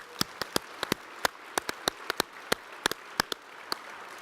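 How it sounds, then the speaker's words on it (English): Sparse applause from the audience at the closing session of a conference summit in Las Vegas, a scattering of distinct individual claps, fairly faint and unevenly spaced. "Let's give them all a round of applause."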